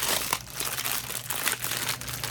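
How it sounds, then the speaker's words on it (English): Plastic packaging around a pack of Water Wave hair crinkles and crackles continuously up close, with irregular louder rustles and no talking. "This is my first time opening the pack."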